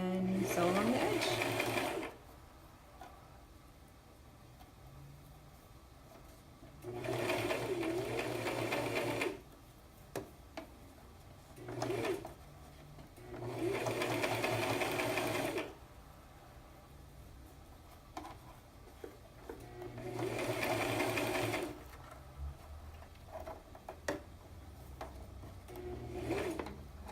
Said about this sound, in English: Maybe put a couple of pins in it. And sew along the edge.